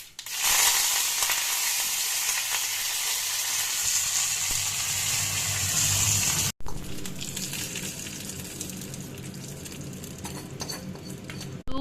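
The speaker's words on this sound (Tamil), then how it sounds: "கடுகு, உளுத்தம்பருப்பு நல்லா போட்டு பொரியணும்" Mustard seeds and urad dal fry in hot oil for a tempering, making a loud, dense crackle and sizzle with rapid spattering pops. After a brief cut the frying carries on somewhat quieter, and no one speaks.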